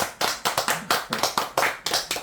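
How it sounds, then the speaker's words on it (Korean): An audience claps at an introduction, a short run of about ten distinct, fairly loud hand claps in a loose, even rhythm with no talking. "박수"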